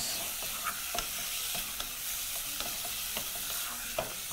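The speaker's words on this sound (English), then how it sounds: "the only particular thing you're looking at is browning your meat" Beef browns in a hot pan at high heat for a biryani, giving a steady loud sizzle with scattered crackles and occasional stirring scrapes, and no talking.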